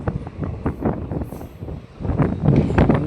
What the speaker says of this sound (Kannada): ಮಂಡ್ಯ ರೈಲ್ವೆ ಸ್ಟೇಷನಿಂದ ನಮ್ಮ ಟ್ರೈನ್ ಹೊರಟಿದೆ